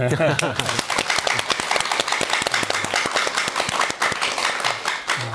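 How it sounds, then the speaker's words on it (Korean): Applause from a studio audience during a Korean Buddhist talk show, a dense steady patter of many hands clapping with talk mixed in at the start. "우리 박수해야 돼요"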